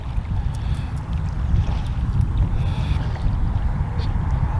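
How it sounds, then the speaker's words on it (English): Gentle wind blows along a beach about an hour before high tide, a steady, loud rush of wind against the microphone that lasts the whole stretch with no pauses. "It's only a gentle wind."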